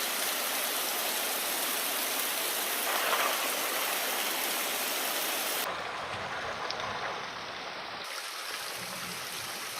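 Water runs and splashes steadily as soil is rinsed off freshly gathered snails, a constant broadband rush heard alone and fairly loud, with the flow shifting slightly partway through.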